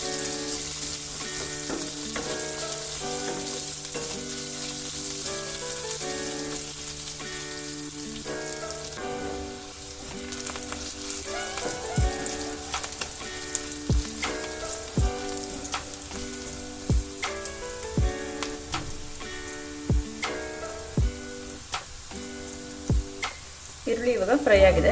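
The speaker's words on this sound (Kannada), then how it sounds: "ಈರುಳ್ಳಿ ಒಂಚೂರು ಫ್ರೈ ಆಗಬೇಕು." Chopped onions frying in a pan for bhindi palya (okra stir-fry), a steady sizzle running throughout with periodic sharp scrapes and taps of stirring, all under background music with no talking.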